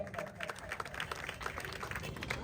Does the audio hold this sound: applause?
yes